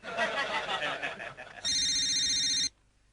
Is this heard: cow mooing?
no